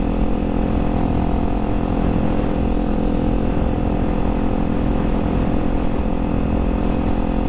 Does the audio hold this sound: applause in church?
no